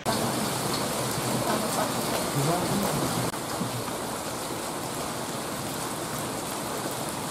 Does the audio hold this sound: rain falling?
yes